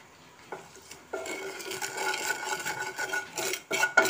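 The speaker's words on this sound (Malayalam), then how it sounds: "അപ്പോൾ ഈ മുളക് പൊടിയുടെ പച്ചമണം മാറുന്ന വരെ ഇതൊന്ന് ഇളക്കി കൊടുത്താൽ മതി കേട്ടോ" A spoon scrapes and rasps against a pan while chili powder masala is stirred for a quail egg roast, with irregular scraping strokes that grow busier and louder toward the end.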